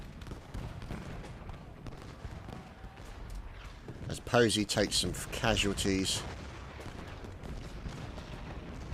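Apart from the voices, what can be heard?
cannon fire in Ultimate General: Gettysburg video game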